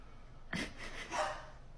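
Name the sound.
cat barking like a dog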